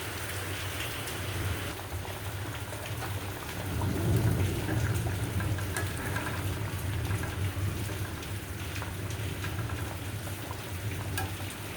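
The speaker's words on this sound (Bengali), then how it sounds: "বাইরে বৃষ্টি হইতেছে, শব্দ, প্রচুর শব্দ।" Heavy rain falls outside in Dhaka, a dense, steady hiss of drops on surfaces that swells slightly partway through and continues without voices.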